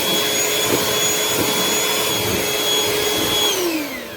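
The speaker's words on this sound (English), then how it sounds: "I'm gonna blend it, mix it until it's like fluffy." An electric mixer whips cream for Oreo ice cream with a loud, steady high whine and whirring hum, holding level before the pitch drops as it slows near the end.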